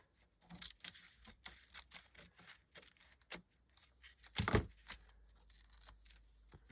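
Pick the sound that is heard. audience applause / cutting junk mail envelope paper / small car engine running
cutting junk mail envelope paper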